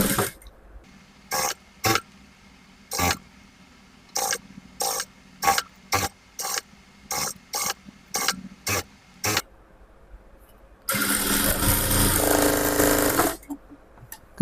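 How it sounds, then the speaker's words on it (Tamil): A sewing machine stitches along the edge of a layered top in a series of short, sharp bursts of needle clatter, about a dozen separate runs, followed by a longer, louder burst of continuous stitching near the end. "வெளிப்பக்கம் திருப்பி இந்த ஓரத்தில் ஒரு தையல் போடுறேன்"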